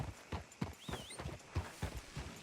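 Horse hooves clop at a steady walking rhythm on a town street in Red Dead Redemption 2, fairly quiet and even, with a brief whistling tone partway through and no talk.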